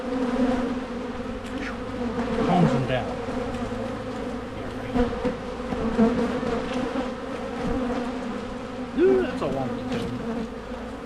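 A swarm of bees buzzing steadily close by, a dense layered hum with individual insects droning past, while a person speaks briefly under the buzzing.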